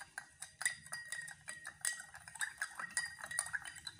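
A spoon stirs sugar into a sabja basil seed drink, clinking against a glass in quick, irregular taps, close and fairly faint, with no talk.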